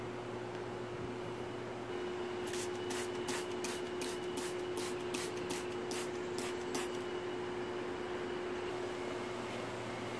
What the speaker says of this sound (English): So I'm going to spray this mixture for my tomato plants also as a preventive measure.